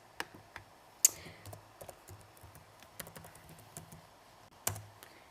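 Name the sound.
typing a password on a computer keyboard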